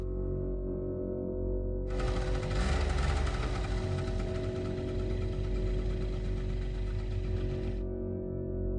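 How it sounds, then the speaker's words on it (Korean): An old motorcycle engine starts up loud and close with a rough, buzzing rumble, holds steady for several seconds, then cuts out over a low background hum. "공장 쪽에서 낡은 오토바이 하나가 나왔습니다."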